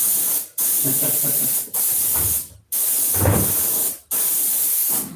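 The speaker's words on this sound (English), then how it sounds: "when you're painting with this airbrush, you're not really painting it wet" An airbrush sprays paint in four sustained bursts of steady hiss, close and loud, each cut off by short pauses, with faint low rumbling underneath.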